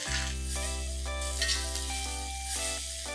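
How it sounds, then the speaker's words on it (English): Steady sizzling of sliced onions frying in a pan, continuous and close, with a constant background hum and no talking. "I'm going to add 3 onions that I have sliced and I'm going to fry them nice and golden."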